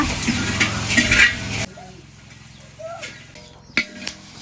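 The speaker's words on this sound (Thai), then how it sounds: "เราก็จะคั่วใน กระทะใหญ่ ๆแบบนี้เลยนะคะ" A spatula scrapes and stirs chili paste in a large metal wok with a soft sizzle, loud at first, then quieter, with a sharp clank near the end.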